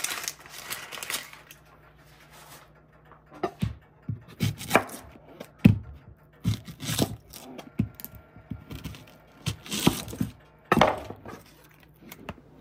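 An onion is chopped on a cutting board with crisp, irregular knife strikes in short bursts, close and fairly loud, over a faint steady hum.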